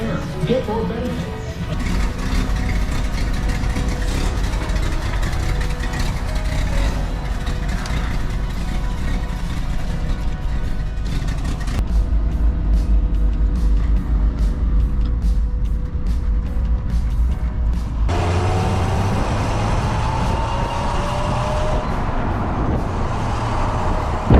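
A 1985 Toyota FJ60 Land Cruiser with a worn engine blowing blue smoke drones steadily while driven, a loud continuous low rumble with road and wind noise that shifts tone partway through.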